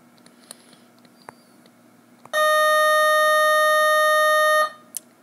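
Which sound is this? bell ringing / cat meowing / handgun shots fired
bell ringing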